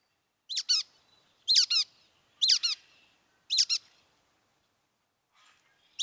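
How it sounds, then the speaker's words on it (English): A brown-headed nuthatch gives four quick pairs of high, squeaky, toy-like chirps at steady intervals, then a faint final note after a pause. "listen to the brown-headed nuthatch"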